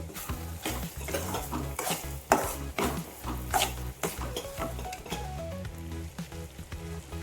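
Roasted coconut, cashews and almonds are stirred in a pan, a spoon scraping and rattling steadily against the metal amid a light sizzle, close and continuous with no talking.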